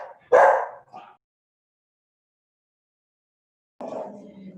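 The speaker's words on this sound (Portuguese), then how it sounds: "Desculpem os meus cachorros." Two or three short, sharp barks from pet dogs indoors, a quick burst followed by silence, then another bark.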